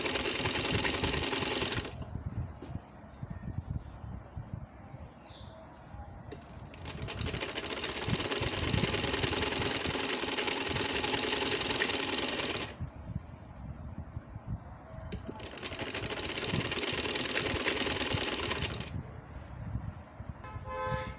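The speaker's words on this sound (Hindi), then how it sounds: "इस तरह रख के इसको सिलाई लगाते जाना है साथ साथ पेपर पट्टी के" A sewing machine stitches a trouser seam with a paper strip alongside, running in two long steady whirring bursts with pauses between, close and fairly loud.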